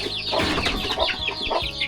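Several chickens cluck and squawk in quick, overlapping bursts from inside a crate being carried, loud and close with no one speaking.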